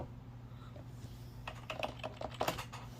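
Keys clatter on a computer keyboard in a burst of irregular typing over a steady low machine hum, starting after a quiet moment and growing busier, on an older Pentium-era PC setup.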